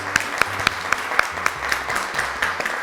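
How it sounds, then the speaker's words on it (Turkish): Applause breaks out in a studio at a Turkish children's quiz show after the Kaşifler team wins a round, heard as a short run of sharp claps over a low musical bed. "Alkışlar geliyor"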